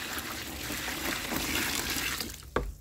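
Hot water pours steadily into a container in a continuous splashing stream, then ends with a brief hard clunk near the end.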